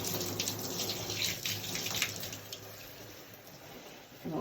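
Lukewarm water rinsing a child's Afro hair, a continuous close rush of running water with soft splashing, steady throughout.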